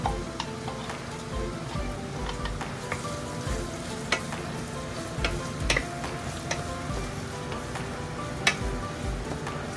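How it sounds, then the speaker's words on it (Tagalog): Onions frying in hot oil, a dense steady sizzle with scattered crackles and pops running throughout, close and fairly loud with no voices. "Ilagay na natin ng onion kasi mainit na yung ating oil."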